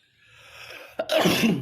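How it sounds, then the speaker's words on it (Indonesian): One sudden sneeze bursts out close to the microphone during a tarot card reading, preceded by a quiet intake of breath and followed by noisy rustling. "Sampai bersin aku."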